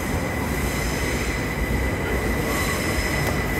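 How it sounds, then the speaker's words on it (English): A commuter train arriving at Paddington Station, London, rumbles steadily past with a loud, continuous roar and a faint high whine from the rails, no voices. "Looks like a commuter train coming in."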